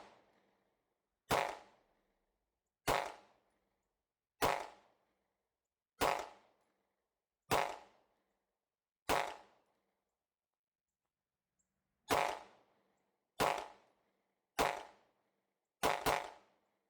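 A Canik TTI pistol with inline ports fires mixed ammunition: about ten sharp, loud single shots at a steady pace of roughly one per second or so, with a gap midway and the last two fired close together.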